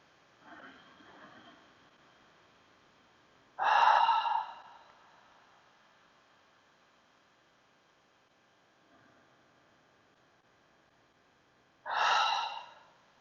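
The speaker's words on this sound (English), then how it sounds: "inhale through your nose. Exhale, sigh, air breath away." Slow, quiet breathing during a restful yoga pose, with a soft nasal inhale and then two separate audible sighing exhales several seconds apart.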